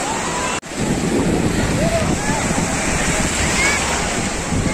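Surf at Diveagar beach on the Konkan coast rolls in as a steady, loud roar of breaking sea waves with wind buffeting the microphone, broken by a brief dropout near the start.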